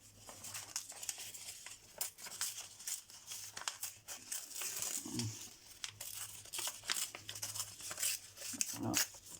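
A paper photo is torn by hand in a papercraft art-journal session: a series of short, crisp rips and crinkles close up, irregular and fairly quiet, with brief pauses between tears.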